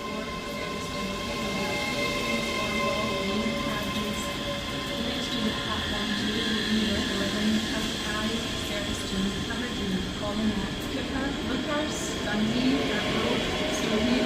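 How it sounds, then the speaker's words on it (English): A ScotRail Class 385 electric passenger train pulls out of Edinburgh Haymarket station on the Glasgow Queen Street to Edinburgh Waverley service. It makes a continuous, close rumble with humming motor tones and faint wheel squeal throughout. "11:29 Scotrail service from Glasgow Queen Street to Edinburgh Waverley."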